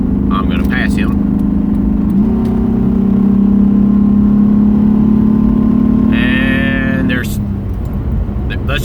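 A Ford Explorer speeds up to pass another vehicle on the road, its engine hum rising steadily from inside the cabin. A person talks throughout.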